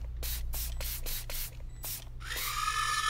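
Disinfectant sprayed in the game FNAF Help Wanted 2, about six short hissing bursts in quick rhythm, followed by a rising tonal game effect, with no voices.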